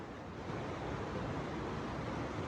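Steady rushing water of a river flowing close by in Solang Valley, Manali, a dense continuous roar with no pauses and no voices.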